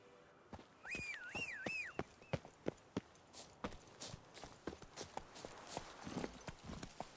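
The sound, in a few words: horse Roach's hoofbeats in video game The Witcher 3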